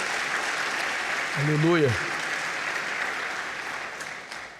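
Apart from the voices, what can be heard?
church congregation applauding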